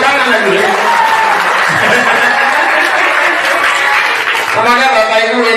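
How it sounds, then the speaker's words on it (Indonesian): An audience at an Isra' Mi'raj religious lecture claps steadily and densely throughout, mixed with scattered chuckles and crowd chatter. "Ya tepuk tangan dulu."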